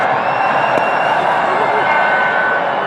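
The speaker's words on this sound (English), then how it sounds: "There's a good crowd in tonight." Crowd at a cricket stadium at night, a steady, distant wash of cheering and murmur that holds evenly throughout, with a commentator's voice over it.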